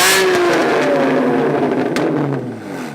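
A car with an aftermarket exhaust revs at a cars and coffee meet, its engine rising and falling in close, loud pulls before easing off at the end.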